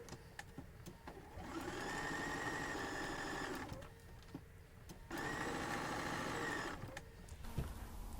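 A sewing machine stitching a seam on a log cabin quilt block, running in two steady whirring bursts of a few seconds each with quiet handling pauses between, fairly close and without talk.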